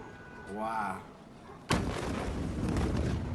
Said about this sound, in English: So the explosion followed by water.